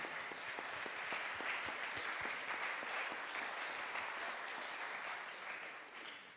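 A room full of people applauds the speakers at a French round-table on supporting service-sector businesses, with dense, sustained clapping that tapers off at the end.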